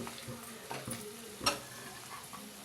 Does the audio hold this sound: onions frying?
yes